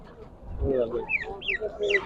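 Chickens and roosters cluck and call at a busy outdoor poultry market, with several overlapping bird calls close by and a steady crowd murmur beneath.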